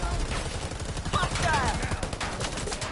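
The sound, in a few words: gunfire in the video game Predator: Hunting Grounds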